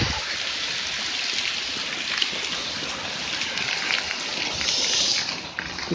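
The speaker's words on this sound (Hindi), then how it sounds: "बारिश तेज हो रही है।" Heavy rain pours down steadily outdoors as a dense, close hiss of drops that swells slightly toward the end, with no talking.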